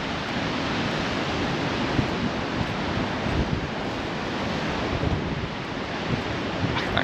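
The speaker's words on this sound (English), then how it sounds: "Actually hear the wind blowing through the buildings." Wind gusts and rough sea waves at Playa de Palma, Mallorca, form a steady, loud wash of broadband noise with surf rumbling underneath throughout.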